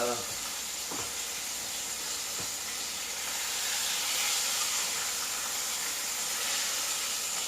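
Fish frying in hot oil, a steady close hiss and sizzle running unbroken throughout, with a few faint clicks and knocks from the pan underneath.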